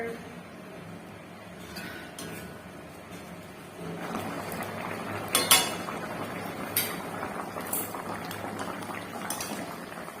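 Katla fish curry gravy boiling steadily in a pot, with a continuous bubbling simmer that grows fuller midway and brief metallic clinks of a utensil against the pan.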